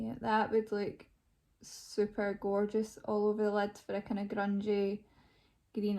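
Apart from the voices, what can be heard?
No distinct noise like a dog, phone or traffic.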